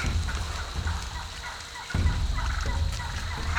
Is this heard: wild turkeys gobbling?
yes